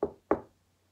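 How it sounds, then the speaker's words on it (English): Two firm knocks on a wooden door, spaced a short moment apart, close and clear with silence after, in a quiet indoor setting. "He knocked at the door,"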